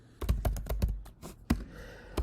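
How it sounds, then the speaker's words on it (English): Typing on a computer keyboard, a close run of quick clicking keystrokes in an uneven rhythm, a short pause, then a few more sharp taps. "While you are typing"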